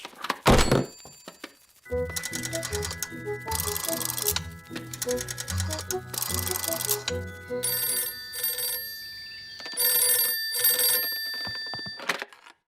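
A cartoon telephone in Ben and Holly's Little Kingdom rings in bright, repeated trilling bursts after a loud thunk at the start, with jingly pauses between rings and no talking.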